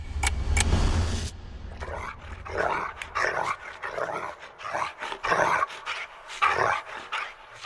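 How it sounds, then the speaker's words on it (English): A dog growls low and rumbling, apparently from inside a closet at night, in a series of uneven snarls and breaths that come and go, fairly close, with no voices. "I was awoken to the sound of growling."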